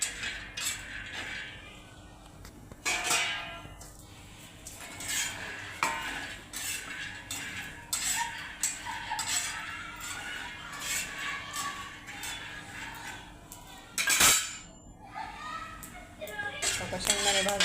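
Peanuts dry-roasting in a pan rattle and scrape under a stirring spoon, with clinks of metal utensils and a voice talking faintly in the background, fairly quiet overall.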